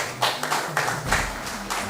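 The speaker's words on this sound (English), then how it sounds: "Please, a round of applause." Spectators at a school quiz contest between Prempeh College and DPSI clap in a lively, continuous patter, a room full of hands applauding at a moderate, steady level.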